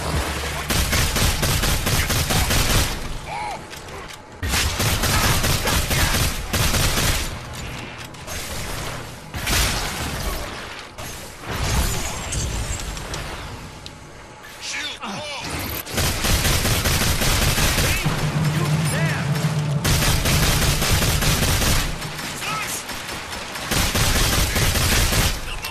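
Dense bursts of gunfire in the video game Evolve rattle in long barrages, separated by short gaps and mechanical clanks, loud and sustained across the scene.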